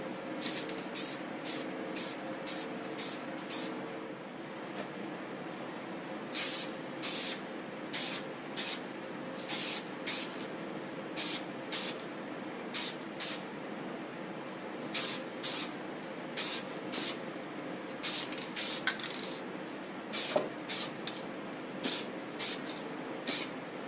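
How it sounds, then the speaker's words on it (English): An aerosol spray paint can hisses in repeated short bursts, some quick and clustered, others longer, applying primer and base coat in car bodywork, over a steady low background hum. "This can's got a really tight spray."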